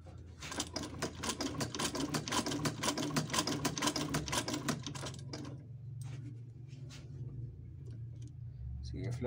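An Adler shoemaker's sewing machine, loose and out of adjustment, runs in a rapid, steady clatter of needle strokes for about five seconds, then stops, leaving a few faint clicks as someone speaks Spanish nearby.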